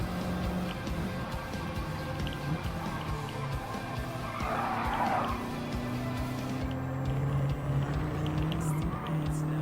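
Race cars in the Gran Turismo 7 video game, including a Nissan Silvia, run with a constant engine drone and a brief tire squeal from a skid, with sustained engine tones shifting throughout.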